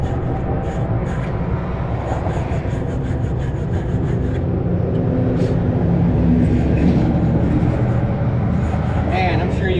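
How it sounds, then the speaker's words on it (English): Heavy road traffic rumbles loudly and continuously beside a roadside spot where a 1973 Dodge W200 truck sits, a dense steady wash of passing vehicles with no breaks. "I'm sure you guys can hear all that traffic."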